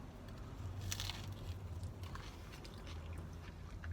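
Crunchy bites and chewing on a Taco Bell Double Stacked Taco with cheese sauce, close-up and fairly quiet, with a few crisp crunches early on followed by steady, muffled chewing.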